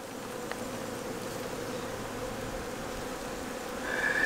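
Honey bees hum and buzz steadily around an open hive during a cool-weather inspection of frames, a constant close drone with individual bees passing near.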